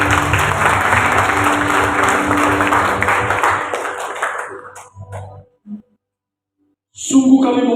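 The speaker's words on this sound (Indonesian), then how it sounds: "mari kita berikan tepuk tangan kemuliaan bagi Tuhan atas kebenaran Tuhan" A church congregation claps in praise to God, a loud, dense wash of applause with a sustained tone underneath that fades out after about five seconds, then a short gap before music or voices swell back in.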